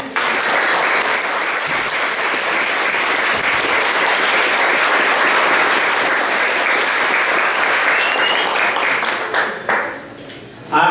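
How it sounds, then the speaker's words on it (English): Dinner audience applauding a guest speaker, loud sustained clapping from a full room that holds steady for about ten seconds before tapering off near the end. "let's give a big applause to Jennison"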